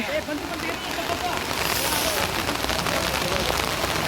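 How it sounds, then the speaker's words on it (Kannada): Heavy rain pours down steadily outdoors beside a parked car, a dense, even hiss of downpour that stays loud and constant throughout. "ತುಂಬ ಮಳೆ"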